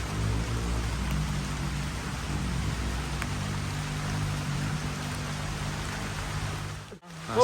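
Heavy rain pouring steadily in a tropical forest, a dense continuous hiss with low rumble, close and loud, broken by a brief thump near the end.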